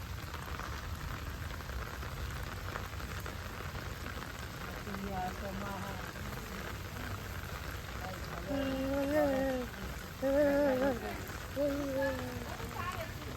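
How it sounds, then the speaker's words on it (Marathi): Steady heavy rain hisses throughout over rice paddy fields during planting in Karjat, with voices talking over it in the second half. "पाऊसच पाऊस"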